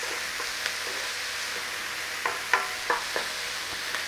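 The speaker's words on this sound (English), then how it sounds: "Flame on, onions and garlic in there." Onions and garlic sizzle in hot oil in a pan, a steady frying hiss broken by a few sharp crackles and stirring clicks, with no talking.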